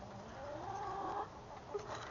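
Chickens cluck in a quiet backyard garden beside a small greenhouse, a few soft, fairly close clucks and calls over calm ambience.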